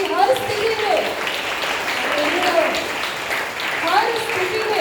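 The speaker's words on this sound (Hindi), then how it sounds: "तो प्रभु को ताली बजाए धन्यवाद देंगे" A church congregation claps in praise to the Lord, steady applause running throughout with cheering voices and a preacher speaking over it.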